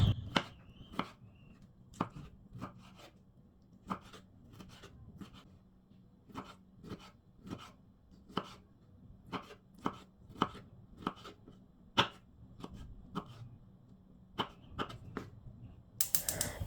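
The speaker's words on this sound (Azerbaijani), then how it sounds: "Sonra bir ədəd böyük pomidoru kub şəklində doğrayıram" A knife chops a large tomato into cubes on a board, giving a steady series of sharp, close taps at a regular rhythm with brief pauses, clear and alone with no talking.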